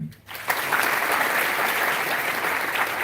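Audience applause at a university inductions address, a dense, steady wash of many hands clapping that swells in after a brief quiet start and holds evenly.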